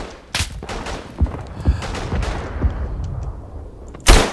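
Enemy sniper gunfire in the First World War video game Verdun: several sharp cracking shots at irregular intervals, some distant and some close, with a loud nearby report at the end over battlefield rumble.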